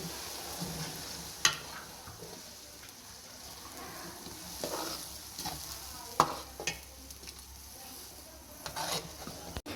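Tomato puree is stirred as it fries in a pan for chicken aloo biryani, with a soft continuous sizzle and occasional sharp scrapes of the spoon against the pan, no talking.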